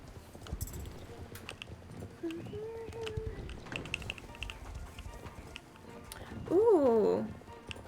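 In the video game Star Stable, horse hooves clip-clop in a light, tapping rhythm beneath game music, with a brief tonal melody rising near the end.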